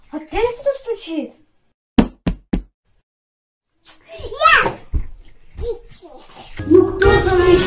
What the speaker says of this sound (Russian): Опять кто стучит?